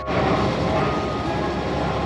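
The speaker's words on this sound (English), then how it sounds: "Now we're taking the MTR off to Austin." Steady rumble and roar of a Hong Kong MTR train in motion, loud and continuous for a couple of seconds with no voices.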